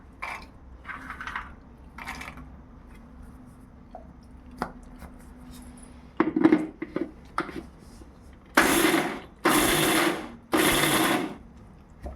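A kitchen mixer grinds roasted dry-fruit laddu mixture in three short loud bursts near the end, following quieter clinks and handling noises.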